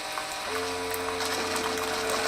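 A Keurig K-Duo coffee maker brewing, a steady motorized pump hum and whir that starts abruptly half a second in and keeps running evenly, with faint liquid trickle beneath, close and fairly loud, no voices.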